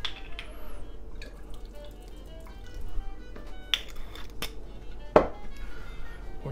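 Wine vinegar poured while making steak tartare in a kitchen, heard as soft, faint drips and trickles with a few sharp little clicks, over a quiet room hush.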